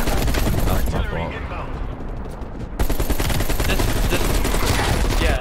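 AK-47 automatic fire in the video game Black Ops Cold War rattles out loud and nearly nonstop, with dense overlapping shots and a brief dip in intensity midway before the barrage resumes at full force.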